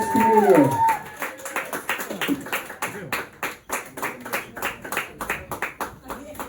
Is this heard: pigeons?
no